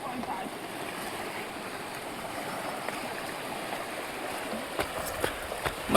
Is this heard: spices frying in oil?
no